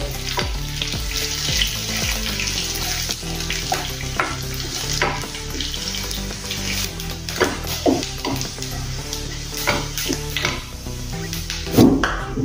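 Garlic sizzles and fries steadily in a hot pan while cooking okra and onion curry, with occasional scraping and stirring clatter, close and continuous.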